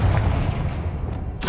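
A Confringo blast spell cast in a Harry Potter video game, heard as a loud sustained rumbling burst that ends in a sharp bright crack.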